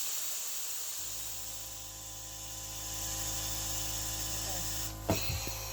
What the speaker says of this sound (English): I'm going to spray some air in this small hose.